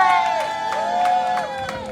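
A crowd at an outdoor labor get-out-the-vote rally at Grand Army Plaza cheers and whoops steadily, with shrill high whistles rising and falling over a sustained roar of voices.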